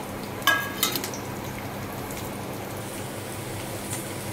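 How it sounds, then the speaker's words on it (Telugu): Green chillies and onions dropped into hot oil, a couple of sharp spatters at the start settling into a low, steady frying crackle close by. "ఇప్పుడు ఆయిల్ వేడెక్కిందండి పచ్చిమిర్చి ఆనియన్ వేస్తున్నాను వేసి కొంచెం బ్రౌన్ గా అనియాలి ఇవి"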